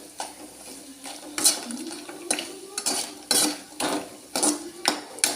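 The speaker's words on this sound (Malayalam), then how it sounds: "ഇങ്ങനെ ഇളക്കി കൊടുത്തുകൊണ്ടിരിക്കണം" Rhythmic scraping and clinking of a utensil against a pan while stirring appalam snacks in oil, repeated strokes roughly twice a second, with a soft frying sizzle underneath.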